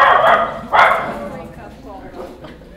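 Husky dogs barking in a couple of loud, close bursts, the second strongest, then tailing off into quieter whines and yips with a person talking alongside.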